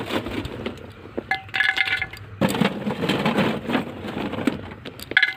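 Coal poured into a pot-shaped brooder heater on a poultry farm, a steady loose rattling and clinking of lumps close by, broken into bursts with short pauses between pours.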